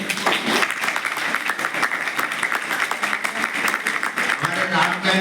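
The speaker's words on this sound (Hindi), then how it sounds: "तालियां बजाइए।" An audience applauds steadily for several seconds, a thick wash of many hands clapping, with a voice speaking over it.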